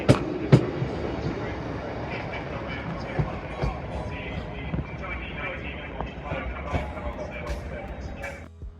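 Class 150 diesel unit 150.118 at Manchester Piccadilly station, heard as a steady low rumble of idling and moving train noise with station ambience, occasional clanks and faint voices in the background.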